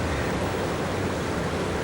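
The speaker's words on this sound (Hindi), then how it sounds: "यार ये झरना तो बहुत डरावना।" A steady, dense rush of falling water from a waterfall, a broad continuous roar that stays even and close throughout with no voices.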